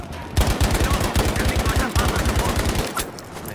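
Rapid machine-gun fire in the Battlefield V game on the Hamada map, a loud continuous burst of evenly spaced shots lasting about three seconds before it cuts off.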